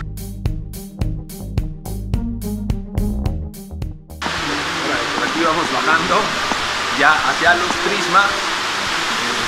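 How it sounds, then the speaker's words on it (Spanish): A waterfall at the basalt prisms of Huasca de Ocampo, Mexico, roars nearby as a steady broadband rush that swells in the second half, while a person speaks over it. "ese ruido que se escucha pues es de la cascada que justo está cayendo casi enfrente de nosotros"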